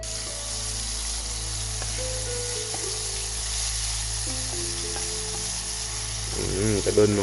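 Shrimp deep frying in a pot of oil over an open fire, a steady close sizzle and bubbling running throughout, with a brief rising burst of louder spattering near the end.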